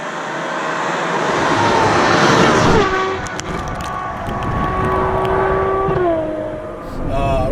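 A Ferrari 812 Superfast engine in race mode with a titanium exhaust tip pulls hard, its high, tonal wail climbing in pitch and dropping back at gear changes around three and six seconds, loud and close.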